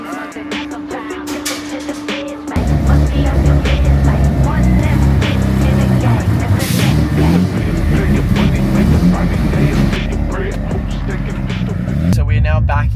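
Mazda RX7 with its engine droning steadily from inside the car after a quieter opening few seconds, a loud continuous low rumble that holds on through the rest of the drive.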